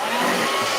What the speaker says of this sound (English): my hairdryer's playing up